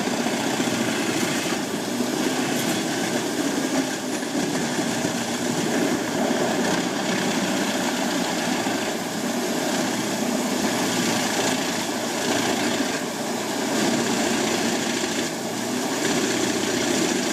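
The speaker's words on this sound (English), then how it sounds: "The rasping sound of wood being shredded blends with the powerful engine noise, creating a vibrant and intense industrial symphony." A Gens Hem 700D wood chipper shreds large tree trunks with a loud, continuous engine roar and a dense grinding rasp that holds steady and close throughout, with no voices.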